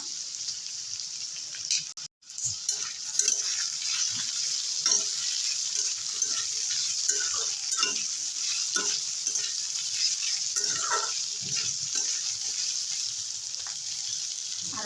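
Broccoli and grated ginger fry in a pan with a steady, close sizzle, broken by a brief pause near the start, then repeated scraping stir strokes and light clicks over the hiss.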